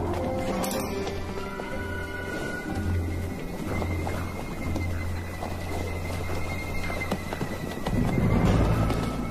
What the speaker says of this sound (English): An elderly sick horse. Or a defenseless foal.